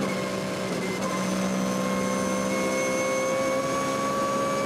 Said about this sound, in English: the engine in the background is that of the GT America 62 from Porsche Gigaspeed